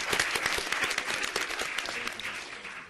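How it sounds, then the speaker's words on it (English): A conference audience claps for a panel, with dense, even applause from a room full of people that stays strong throughout and eases slightly toward the end. "we should thank our panel and clap for our panel"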